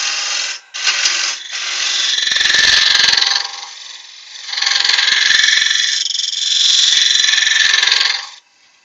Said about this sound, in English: I think an ordinary spindle gouge will be suffice.